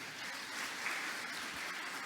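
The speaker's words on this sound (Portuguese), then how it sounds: "Você pode aplaudir o Senhor." Church congregation clapping in praise, a brief, fairly soft and continuous burst of many hands with no voices over it.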